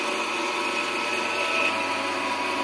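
A meat band saw cutting machine for bone-in meat runs steadily after being switched on, giving a continuous loud mechanical whir with a high motor whine and no breaks.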